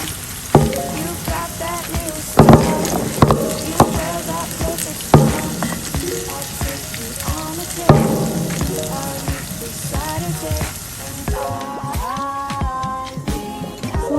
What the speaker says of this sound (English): Meanwhile here, the cauliflower and paneer is still cooking.